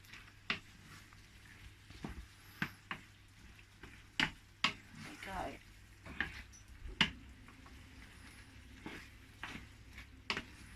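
Scraping and clinking of a utensil against a frying pan as creamy pork pasta with mushrooms is stirred, irregular taps over a faint sizzle, close by with no talking.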